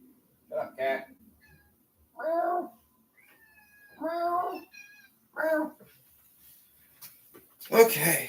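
A cat meows several times in short, separate calls, fairly close and clear, with a brief louder burst near the end.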